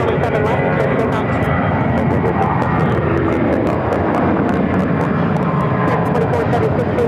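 A fixed-wing airliner roars continuously on takeoff from runway 7 left at Phoenix airport, loud and close throughout, with radio voices talking over the engine noise.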